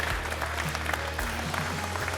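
An audience applauds business figure Maurice Lévy at a masterclass, a steady wash of clapping throughout with a low hum beneath and some faint voices mixed in.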